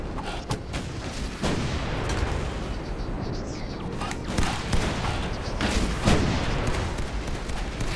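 Automatic turret fire in the VR game Spuds Unearthed, with sharp repeated shots and booming bursts cracking through a dense, continuous din of game noise and mechanical clatter.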